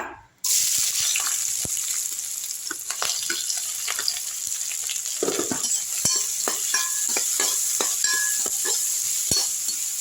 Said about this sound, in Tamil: இப்போ அதே கடாயில் ஒரு ஐம்பது கிராம் நல்லெண்ணெய் ஊற்றிக்கலாம் செக்காயில் ஊற்றிக்குங்க இப்போ இதில் வெங்காயம் எடுத்து போட்டுக்கோங்க